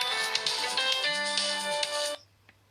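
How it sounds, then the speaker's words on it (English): A phone ringtone for an incoming call plays loud and steady as a bright electronic melody, then cuts off abruptly with near silence after. "There's a phone call coming in."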